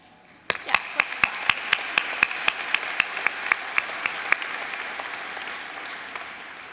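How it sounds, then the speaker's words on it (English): Applause rises at a business school graduate diploma ceremony as sharp, close hand claps ring out in a fairly regular rhythm, about eighteen distinct strikes over a faint crowd background, thinning toward the end. "Yes, let's clap."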